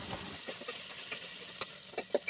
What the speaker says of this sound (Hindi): जीरा जैसे ही ब्राउन होता है इसमें चावल डाल देते हैं और उनको फ्राई करते हैं